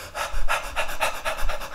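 Quick rhythmic dog-like panting done by a person as a breathing exercise, about six short breathy puffs in under two seconds, close and fairly loud with no talk; a human voice imitating a panting dog.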